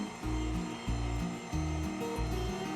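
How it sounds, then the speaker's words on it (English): A KitchenAid stand mixer running at speed 2 while kneading pizza dough, a steady low mechanical whir with a rhythmic, pulsing churn as the hook turns, close and continuous with no talking. "do not go over 2 if you have a KitchenAid or a mixer like this"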